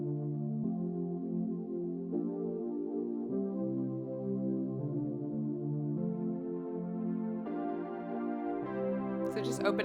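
A soft, warm OB-style synth pad playing a slow chord progression, its tone gradually brightening as the filter opens, ending with a brief bright burst.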